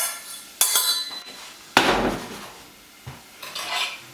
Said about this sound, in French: à le couteau retourné, je fais tomber mon oignon dedans.